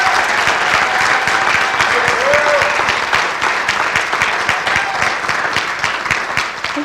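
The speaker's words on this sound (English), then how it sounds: "Ladies and gentlemen, please join me in applauding our next generation of transportation professionals." A ceremony crowd at a college campus claps for transportation graduates, sustained loud applause with dense overlapping hand claps from start to finish and a brief voice underneath.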